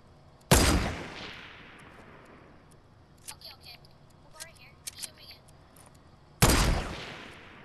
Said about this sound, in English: I'm shooting in the same spot.